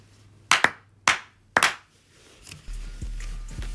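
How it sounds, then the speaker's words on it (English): Three sharp hand claps, evenly spaced and close, each ringing briefly before fading, followed by faint low hum and small knocks. "Clap 3 times."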